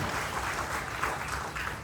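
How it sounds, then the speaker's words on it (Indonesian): A church congregation claps for God during a sermon, producing a steady, moderately loud wash of applause that holds throughout without a break. "Beri tepuk tangan yang meriah bagi Allah kita."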